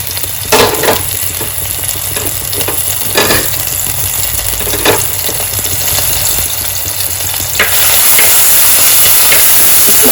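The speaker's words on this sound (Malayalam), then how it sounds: "നമുക്ക് ഇഞ്ചിയും വെളുത്തുള്ളി ഇട്ട് കൊടുക്കാം" Ginger and garlic dropped into hot oil for a crab roast, giving a steady loud sizzling hiss with intermittent crackles and stirring bursts that swell louder near the end, with no talking.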